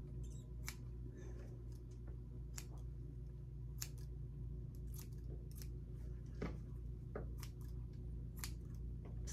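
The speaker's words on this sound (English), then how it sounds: "And I have grooming shears." Sharp, crisp snips of grooming shears cutting a Goldendoodle's hair come in irregular clusters over a quiet low hum, close up and fairly faint.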